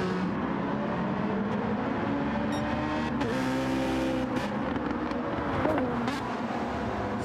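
Race cars lapping Brands Hatch in a racing video game, including a bright yellow car and a Citroën through Druids, a steady loud engine drone with rising and falling revs and brief tyre noise.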